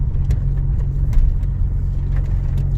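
Lowered 1999 BMW M Coupe with a turbo conversion, H&R springs and Bilstein shocks, pulling hard in second gear with a steady, loud mid-pitched engine drone close by.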